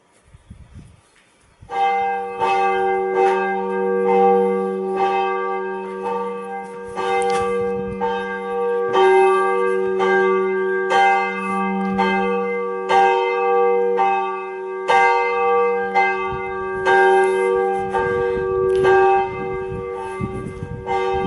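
A church bell rings repeatedly in strong, evenly spaced strokes, each ringing with bright overtones and a humming low tone that carries on between strikes, loud and close with no talk.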